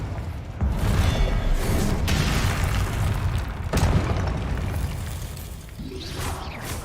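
A Confringo blast spell goes off in a Harry Potter video game: a loud booming explosion with a swooshing rush, followed by further bursts and crackling impacts, with no talk over it.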